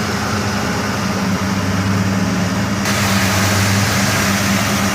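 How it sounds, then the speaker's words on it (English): A 1970 Oldsmobile Cutlass SX convertible idles steadily up close, its low engine drone carrying a faint exhaust leak ticking from the right-bank exhaust manifold, no voices. "You can hear a little bit of exhaust leak on the right bank of the exhaust manifold."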